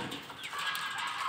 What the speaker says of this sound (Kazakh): Сіздерге қаздарды көрсететін боламын.